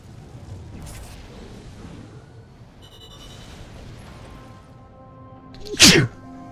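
A person gives a single sharp, loud sneeze near the end, after several seconds of quiet, low rumbling background from an Armored Core 6 game.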